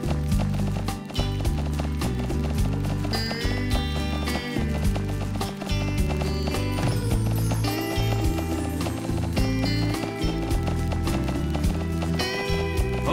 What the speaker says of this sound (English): I think we might be able to manage a gallop now